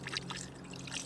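Liquid trickles and pours softly into the cylinders of a Holden Commodore engine that has sat for 15 years, a faint, brief, continuous dribble with a low hum underneath.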